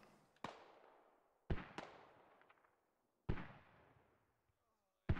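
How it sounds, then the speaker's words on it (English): Mortar fire in the video game Squad: several loud booming blasts, some in quick pairs, each trailing off in a long rumbling decay, with quiet gaps between them. "More mortars going out."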